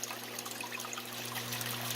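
Water trickles and splashes steadily from an Aquatop Forza 25-40 hang-on-back aquarium filter, a close, continuous burble over a low electrical hum.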